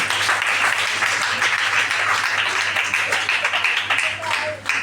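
Women in a church congregation break into sustained applause, a dense clapping texture under a steady low hum, with voices mixed in beneath it.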